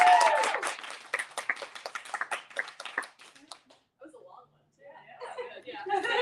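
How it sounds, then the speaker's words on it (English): In a small group celebrating an author, scattered hands clap amid chuckles for a few seconds, then trail off into quiet, and soft laughter and murmuring return at the end. "I think we should clap again."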